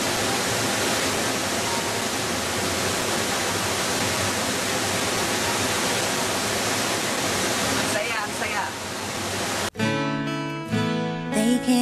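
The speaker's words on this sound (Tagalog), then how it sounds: "Dito pa lang ako sa ilalim ng Tinoyan Falls." Tinuy-an Falls in Bislig, Surigao del Sur, pours with a dense, steady roar heard up close for most of the stretch; near the end the rush cuts out and music takes over.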